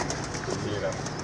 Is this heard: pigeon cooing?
yes